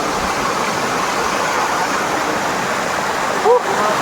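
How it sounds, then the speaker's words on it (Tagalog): A stepped waterfall rushes loudly and steadily, cascading down in tiers, a dense unbroken roar of falling water close by, with a brief faint sound near the end. "Kasi tingnan nyo ang waterfalls. Doon oh. Parang naghahagdan-hagdan siya."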